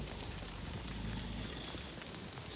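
Rain falls steadily outdoors while cows are being moved, a dense continuous hiss of drops hitting the ground and surfaces, even and close with no pauses.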